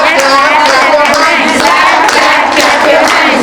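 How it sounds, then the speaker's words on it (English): Children at a school playgroup orientation clap their hands along to a song, a dense, steady patter of many small hands with a lively crowd feel and singing voices underneath. "clap your hands"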